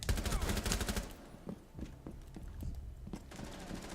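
Rapid automatic gunfire in Rainbow Six Siege, a dense burst of shots in the first second, then scattered single reports and lighter clicks under game background noise.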